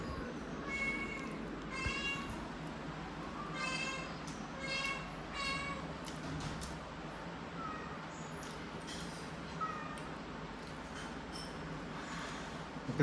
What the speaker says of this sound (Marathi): मांजरा कशी म्याव करू लागली होत बघा